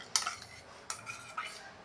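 Chopped raw mango is added to a bowl, making three sharp clinks of a spoon against the dish in a quiet kitchen.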